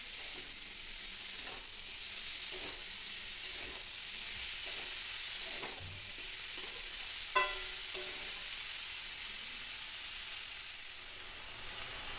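Chopped banana flower and potatoes sizzle in a little oil in a pan, a steady hiss broken by soft stirring scrapes and two brief clicks near the end, with no voices.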